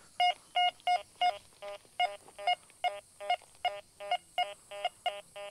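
A metal detector sounds a string of short electronic tone beeps in a steady pulsing rhythm, each tone clear and fairly loud, about fifteen evenly spaced bursts with no talking.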